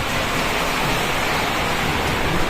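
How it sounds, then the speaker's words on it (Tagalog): Heavy rain falling outside, a dense, even hiss of steady downpour with no breaks or voices, filling the whole stretch at a constant level. "sa labas lakas ng ulan"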